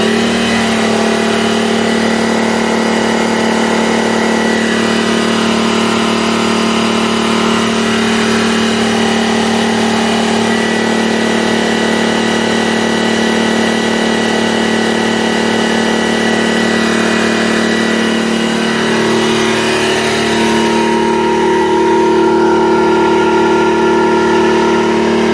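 Detroit 6V92 diesel engine in a Country Coach motorhome, revved high and held, a loud steady drone with strong low harmonics that shifts down in pitch near the end, no talking.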